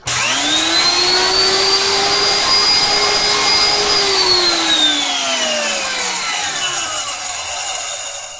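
Electric grinder powdering dried herbs spins up into a loud, steady high-pitched whine with a strong motor hum that holds for several seconds, then drops in pitch and fades as the blades slow down.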